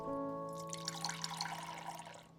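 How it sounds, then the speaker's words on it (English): Video game water sound: bubbling, splashing liquid pouring over a sustained musical tone, fairly close and steady for a couple of seconds. "That was water."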